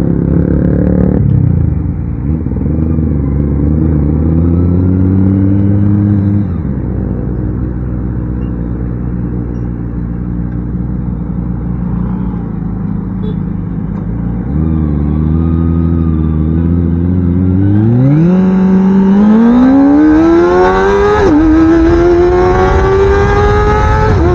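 A Kawasaki Ninja ZX25R motorcycle engine revs loudly up through the gears, pitch climbing and dropping with each shift, ending in a high-pitched scream close by.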